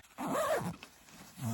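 A Nemo bivi bag zipper is drawn close up in one smooth rasping pull, then a brief second tug, outdoors at a wet wild camp on Cross Fell in the Pennines.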